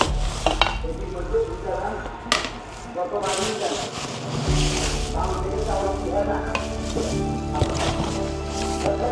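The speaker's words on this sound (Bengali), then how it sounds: "অসম্ভব সুন্দর ফ্রাই প্যানটি আমি খুলে দেখাচ্ছি" A green ceramic nonstick Jamuna frying pan is unboxed and handled, giving close knocks, metallic scrapes and clatters, with sharp taps scattered over a rustling background.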